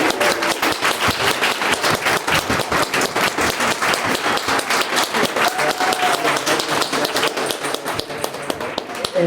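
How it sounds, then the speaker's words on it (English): At a history museum in Tulsa, an audience gives a speaker a final round of applause: loud, sustained clapping with distinct individual claps standing out in a fast, fairly regular rhythm, and a faint voice underneath. "let's give her one last round of applause."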